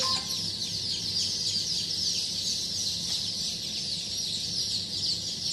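A dense chorus of Sonali breed chicks chirping continuously in a crowded brooding shed holding around 2000 birds, high-pitched peeping layered and steady throughout, with no talk over it.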